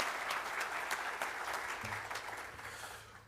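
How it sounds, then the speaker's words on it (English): Audience applause at a provincial education awards ceremony, a steady wash of many hands clapping at moderate distance that slowly thins and fades toward the end. "And I think that deserves a round of applause."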